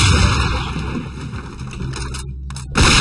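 Breaching charge blasting in the SWAT 4 tactical shooter: a loud, close burst with rattling debris that fades, then a second sharp blast at the very end.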